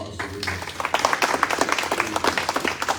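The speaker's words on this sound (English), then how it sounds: "let's give all our panelists a round of applause for them." Audience applause for a panel of speakers at a talk on smoking from medical and religious views: a steady patter of many hands clapping, fairly close and lively, lasting throughout.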